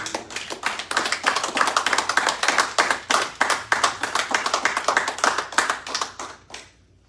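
A church congregation claps together in a fast, steady rhythm, loud and close, with no voices over it, before the clapping stops abruptly at the end.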